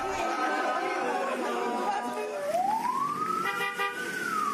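Ambulance siren rising and wailing on a busy street, climbing in pitch partway through over a dense, continuous murmur of crowd chatter and traffic.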